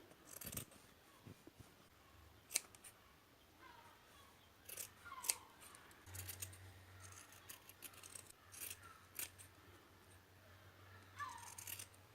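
Scissors trim off excess thread while an owl-shaped fabric bag is sewn by hand, making several quiet, separate snips with soft fabric rustling between them, close up and with no speech.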